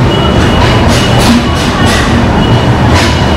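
A train at a railway station rumbles loudly and close by, with a continuous rolling clatter and recurring rhythmic clicks as the wagons pass.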